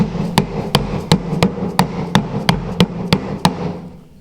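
A dead blow rubber hammer drives PVC pipe into a T-joint with ten steady, evenly spaced thuds, close and loud, each a dull knock that stops cleanly.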